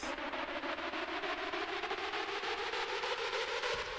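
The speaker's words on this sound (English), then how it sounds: "The second drop is more kind of like a festival trap style." A festival trap style second drop of an electronic track, loud and dense with a rapid steady pulse over sustained bright synth layers, playing alone without any voices.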